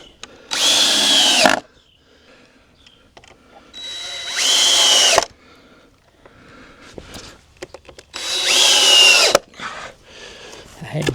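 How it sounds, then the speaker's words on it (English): A power drill pre-drilling screw holes in wood for a donkey gate, three loud whirring bursts of about a second each, separated by quieter pauses with faint handling noise. "We're going to pre-drill them holes."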